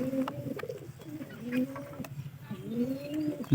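Pigeons coo in repeated rolling phrases, three clear bursts at close range with soft bird sounds between, during pairing of breeding pigeons.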